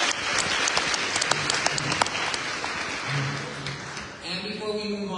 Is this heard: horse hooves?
no